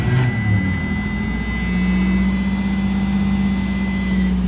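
A 1985 Pontiac Firebird engine cranks briefly, then catches and settles into a steady, loud idle with a constant low drone and a faint whine.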